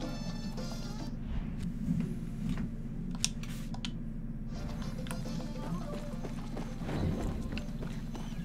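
Horse hooves clip-clop steadily in Far Cry 6, a soft, even rhythm of light knocks over a low constant rumble, with no voices.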